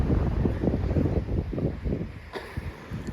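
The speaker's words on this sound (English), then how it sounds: "this beach, it's really windy today, so the waves are really high" Strong wind gusts over a Naxos beach in Greece, with high waves rolling in beneath a constant rumbling roar and buffeting on the microphone, and no voices.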